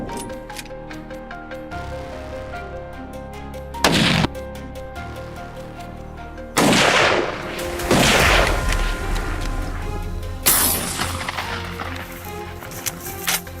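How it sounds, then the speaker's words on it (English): Gunshots ring out during a wild boar hunt, a few sharp loud blasts spaced seconds apart with decaying tails, set against a steady background hum. "My first shot struck, but the boar still had fight left."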